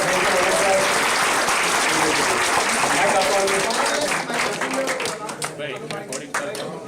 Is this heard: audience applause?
yes